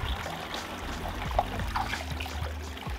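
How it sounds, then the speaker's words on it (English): Water trickling and dribbling out of an unscrewed pipe union on a pondless water feature, a faint, steady liquid flow with small splashes, heard close with no talk. "It allows that water from the pipe to come out to prevent freezes."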